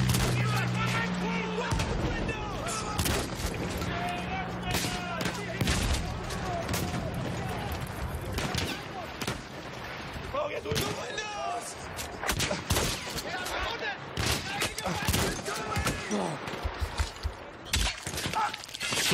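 Battlefield 1 shotgun fire and battlefield gunfire, loud repeated blasts and crackling shots with explosions mixed in, dense and chaotic, with a player talking over it.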